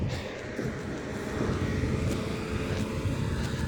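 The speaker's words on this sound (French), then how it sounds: "Après, je suis dans l'avion. On reste quelques temps dans l'avion." Steady broadband engine rumble and rushing noise heard from inside an airplane cabin in flight, continuous and even throughout.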